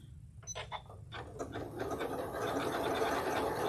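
A domestic sewing machine running a decorative stitch, driven by its start-stop button with the foot pedal unplugged, hums steadily and grows louder after a few sparse mechanical clicks, alone without speech.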